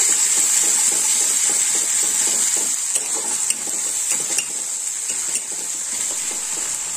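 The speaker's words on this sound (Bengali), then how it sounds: "একটু ভেজে নেব।" Parshe fish fry in a pan with a loud, continuous hissing sizzle and rapid crackling spatter, with a few faint clinks of the pan partway through.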